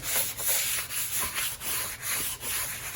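A scrap-parts guitar body is wet sanded by hand in rapid back-and-forth strokes, giving a rhythmic, gritty rasp with brief pauses between passes. The sound is close and steady, and no one speaks.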